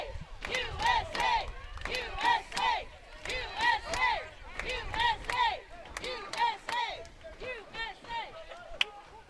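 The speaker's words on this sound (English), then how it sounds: "the chant for USA goes out at the crowd here at the Shaw Aquatic Center" Spectators at a women's water polo match in an aquatic center chant "USA" in a rhythmic, repeated cadence with clapping between chants, a crowd heard from a moderate distance, steady and evenly paced.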